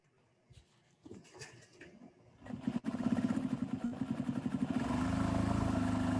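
A sewing machine stitches down part of a drawstring backpack, starting with scattered clatter and handling noises, then settling into a loud, steady mechanical whir that runs continuously to the end.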